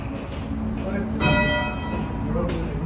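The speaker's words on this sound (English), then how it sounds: "Oh, there's a bell." A bell in the bell tower of Vilnius Cathedral rings out with a single resonant strike partway through, its tone ringing on inside the belfry while a person talks nearby.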